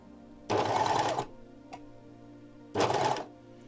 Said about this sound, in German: Wenn ich jetzt in die Rundung reinnähe